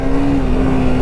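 Bajaj Pulsar RS200 motorcycle, a BS6 Stage 2 model, riding on a normal street, its engine giving a steady, loud, close droning hum with a constant pitch throughout.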